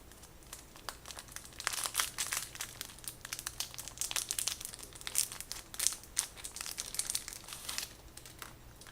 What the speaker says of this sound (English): Let's just do a little unwrap on this to show you.